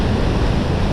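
Fast-flowing mountain river with spray in Broghil Valley National Park, a loud, dense, unbroken roar of rushing water close by, with no voices.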